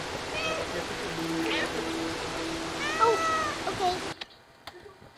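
A cat in the Stray video game lets out several meows, some short and some drawn out, over a steady rush of flowing water, with a brief quieter tail at the end.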